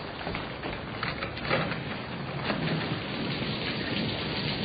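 A radio drama thunderstorm effect delivers dense, heavy rain with low rolling thunder swelling underneath, continuous and fairly loud, with no voices.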